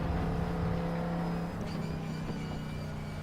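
An LMP2 prototype race car in RaceRoom braking into a corner entry at Silverstone, engine note stepping down through the gears; steady, close, loud engine drone with falling tonal pitch lines, no talk.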